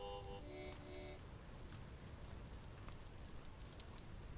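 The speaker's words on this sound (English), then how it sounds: "Oh, it is raining" Rain falls steadily in the Vintage Story video game, a soft continuous patter on surfaces, with a few brief tonal game sounds at the start.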